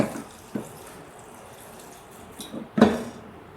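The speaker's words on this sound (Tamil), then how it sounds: "அது நனையிற அளவுக்கு தண்ணி ஊற்றிடலாம்" Water is poured from a tap into a pressure cooker holding strained banana flower for kootu, a soft splashing wash that swells into a louder gush near the end.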